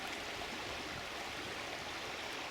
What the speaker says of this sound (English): So it runs off these shallows, off this gravel, into that deeper water down the far side.